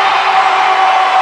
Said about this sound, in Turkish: Alkış alıyor bu savunma.